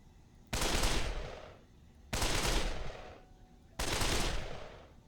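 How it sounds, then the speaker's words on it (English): Burst rifle firing in Dead Island Definitive Edition with a firearms overhaul mod: three loud, evenly spaced bursts, each with a sharp onset and a decaying rattling tail. "here's the burst rifle with level 1"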